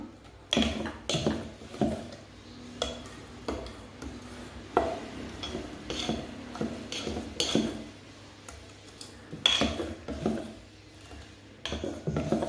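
Bottle gourd adai dosa batter being stirred in a vessel, giving repeated scraping and clinking strokes of a spoon against the sides, close and fairly loud, with irregular bursts throughout and no talk.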